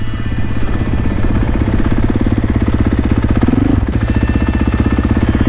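A KTM motorcycle engine runs loud and close during a wheelie attempt, with a steady rapid pulsing throb that swells briefly near the end.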